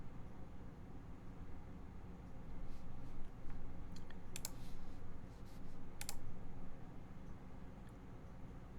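Soft, scattered mechanical keyboard clicks from a Monokei Kage prototype at a low level over steady background hiss, a few sharper taps standing out briefly.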